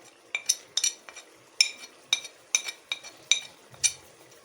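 A metal spoon clinks repeatedly against a pot as spice powders go into cooking moong dal, giving about a dozen crisp, close taps in an uneven rhythm.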